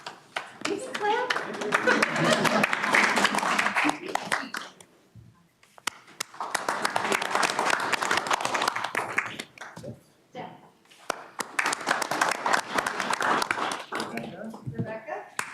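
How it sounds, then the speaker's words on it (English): Audience clapping at an awards presentation during a transportation committee meeting, in three bursts separated by short pauses as names are called, with some talk around the claps. "Please clap."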